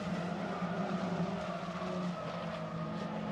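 Ginetta Junior race cars sweep through a fast right-hand corner at Snetterton, with a steady, dense engine roar and tyre noise holding at constant loudness for the whole stretch.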